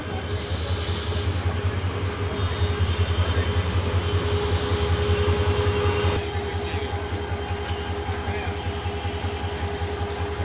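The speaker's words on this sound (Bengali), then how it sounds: "ঢাকা কমলাপুর থেকে চলে আসলো ট্রেনটি এখন দুপুরের সময়" A passenger train from Dhaka Kamalapur sits at Joydebpur railway station at midday with a steady, loud engine rumble and drone. The sound drops somewhat partway through while the background noise continues.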